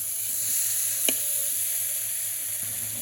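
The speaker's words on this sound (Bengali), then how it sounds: "তো কষিয়ে নিই একটু ভালো করে" Spice mix sautéing in a pan over a clay stove in a village kitchen, a steady soft sizzle with one brief utensil clink near the start, no voices.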